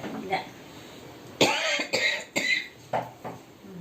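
Several sharp coughs in a short burst, about five harsh hacks close to the listener, separated by brief pauses, with a bit of throat clearing.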